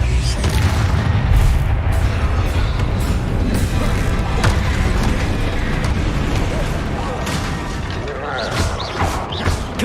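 Bombarda and Confringo spell blasts in Hogwarts Legacy rumble and crash in a thick, continuous barrage of booms, loud throughout with sharper impacts toward the end, while a voice talks over the combat.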